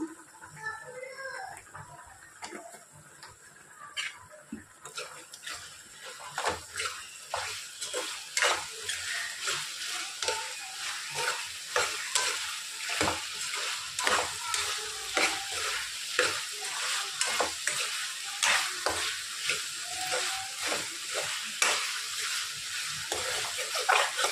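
Chicken frying in oil with coriander and cumin powder, stirred with a spoon: steady sizzling broken by repeated scraping stirs that grow busier and louder over time, close up, with no speech.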